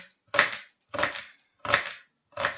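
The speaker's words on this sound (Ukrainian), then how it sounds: "Зараз швиденько поріжемо цибульку." Four separate crisp knife strokes chopping onion on a cutting board, evenly spaced and close, with no talking.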